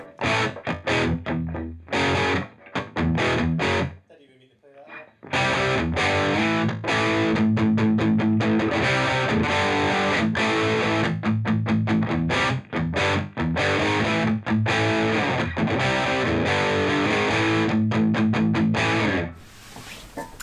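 A Bugera V22 Infinium valve guitar amp with its reverb switched off, played with a driven, distorted electric guitar tone in steady riffs and sustained chords, loud and close, with a brief near-silent break early on.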